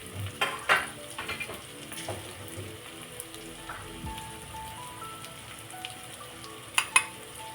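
Curry leaves sizzle in hot oil for street-style egg rice, a steady low crackle of frying with a few sharper pops and spits near the start and end, close and without talk.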